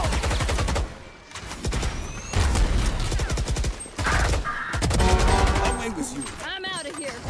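Gunfire in the video game Valorant, rapid automatic bursts broken by short pauses, loud and close, with voices talking over parts of it.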